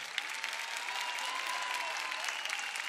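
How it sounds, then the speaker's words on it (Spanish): Steady, dense applause from a crowd at a drag gala show in Corralejo, filling the whole stretch at an even level without talk. "Fuerte el aplauso para ella"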